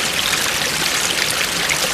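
Spring water trickling steadily out of muddy ground through roots and stones on a solo March hike, a continuous close bubbling flow with no talk.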